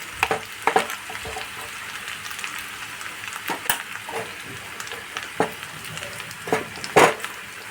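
Spice paste for thecha masala aloo dum goes into a pan of frying potatoes, bringing a steady soft sizzle broken by scattered scraping stirs and clinks of a utensil against the pan.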